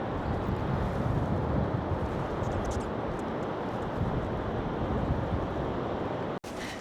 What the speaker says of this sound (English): We've had rain for the last couple of days, so the waves are huge.